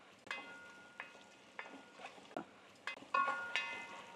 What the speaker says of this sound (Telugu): సాల్ట్ వేసుకొని కలిదిప్పుకుందాం